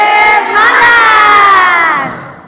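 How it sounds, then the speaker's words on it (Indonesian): An indoor group on its feet performs a spirit clap and chant together, loud crowd voices rising in a unison shout that swells and then fades out. "Tepuk semangat. Semangat. Semangat."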